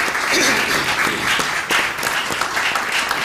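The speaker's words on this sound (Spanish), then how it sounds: "yo quisiera pedirles un aplauso a todos los que estamos presentes por esta primera jornada" An audience at a congress on the Nazca mummies claps in dense, sustained applause, a loud continuous patter of many hands for a few seconds.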